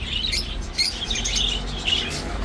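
Caged birds at an outdoor bird and animal market by the old bridge in Baghdad chirp and tweet in quick, high bursts over a steady low hum of market noise, with no voices.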